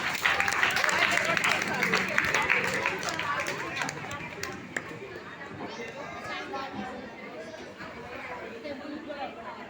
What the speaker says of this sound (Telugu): చప్పట్లు గట్టి కొట్టండి.